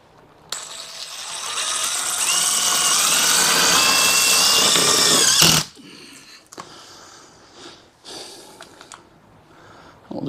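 A power driver runs bolts into the cover of an HVAC air handler, one long loud whirring drive followed by short bursts and clanks close by.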